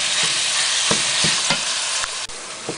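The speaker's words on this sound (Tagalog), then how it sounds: "Gisa natin maigi yung ground beef." About half a kilo of ground beef sautés in a hot pan for pancit palabok, a loud steady sizzle broken by regular scraping strokes of a spatula, close up and with no voices.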